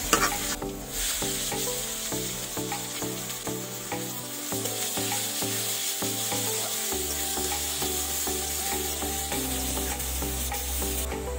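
Crushed garlic and onion sizzle in a hot pan for a raw jackfruit dish and are stirred with a utensil, giving continuous frying hiss with repeated scraping strokes. Soft background music plays and no one speaks.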